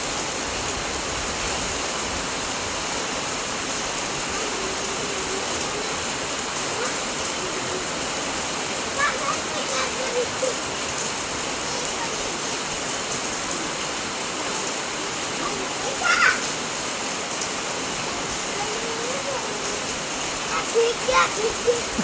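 Heavy monsoon downpour during a thunderstorm makes a steady, broad hiss throughout, with occasional brief clatters and faint voices and laughter in the background.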